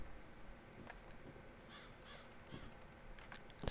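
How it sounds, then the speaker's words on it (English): A crow caws in the Red Dead Redemption 2 game world, a few harsh calls spread out over quiet outdoor ambience, fairly faint and distant, with a louder sound at the end. "I can hear a crow."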